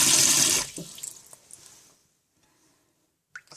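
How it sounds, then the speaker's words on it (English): Kitchen tap water pours loudly into a bowl of red beans being rinsed for a half second, then cuts off, leaving brief clatters and near silence. "I'm just gonna turn this off"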